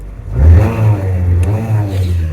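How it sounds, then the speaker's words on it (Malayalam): A 2003 Toyota Camry engine starts and revs, a loud, steady, close low rumble that swells early on and holds strong throughout with no talking. "എന്താ എഞ്ചിൻ്റെ ഒരു സൗണ്ട് കണ്ടോ?"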